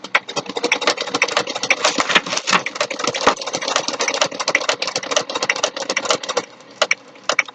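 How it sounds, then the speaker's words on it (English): Sewing machine stitching steadily, a fast even mechanical chatter running close and continuous for several seconds before easing into a few scattered stitches at the end, with no talking. "let's sew until this bobbin thread runs out"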